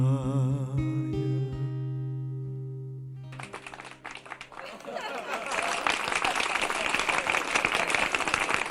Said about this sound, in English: By the gods, they were clapping like mad.